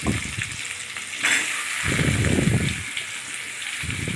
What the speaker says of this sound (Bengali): দিয়ে ভালো করে এবার নাড়াচাড়া করতে থাকলাম